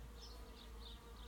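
Honeybees buzz steadily from a package being installed into a hive, a soft continuous hum with faint wavering whines rising and falling over a low background, no voices.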